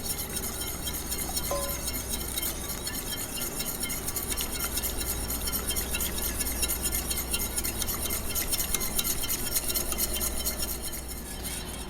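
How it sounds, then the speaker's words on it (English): Eggs are whisked steadily into hot milk for custard. Fast metallic whisking rattles against the pan the whole time, close and continuous, with no talk. "I'm going to add my eggs slowly into the mixture while whisking it continuously."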